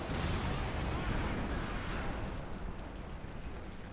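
A tank is hit and destroyed in a Company of Heroes 2 match, with a loud, dense burst of game explosion and artillery-like rumble that fades over a few seconds.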